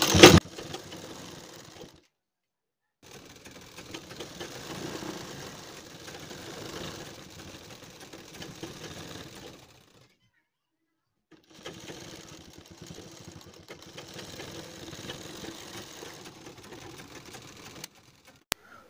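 Sewing machine stitching a second line of stitches around a kurti neckline, running in two long steady bursts with a short pause between them, no talk.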